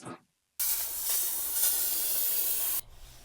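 A steady, breathy hiss of cleaner sprayed inside an oven runs for about two seconds after a brief rustle, then cuts off abruptly, close to the listener.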